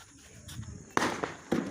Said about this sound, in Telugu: ఇగో బాంబులు గిట్ట పెడతాడు